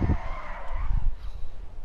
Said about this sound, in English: Can still do a drift quite well.